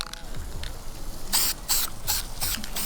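A spray can sputters primer onto the badges of an LT1 Camaro in a few short, uneven hissing bursts, close by, with faint background rustle between them.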